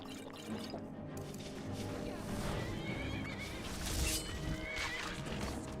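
A horse whinnies in Skyrim, a drawn-out neigh rising over low game ambience, fairly close, with soft background noise and faint tonal hum.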